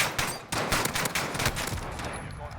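Rapid pistol shots crack out in Call of Duty Warzone, a quick string of sharp reports over a dense combat background, followed by fading noise.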